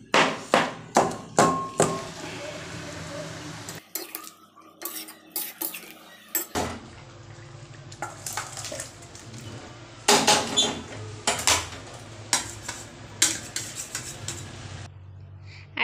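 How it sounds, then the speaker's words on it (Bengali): Metal utensil stirring and mashing vegetable curry in a cooking pot, with sharp clanks and scraping against the pot in irregular bursts, close and loud, with a brief quiet gap partway through. "সবজি একটু গলিয়ে দিচ্ছি, এতে তরকারির টেস্ট একটু ভালো হবে"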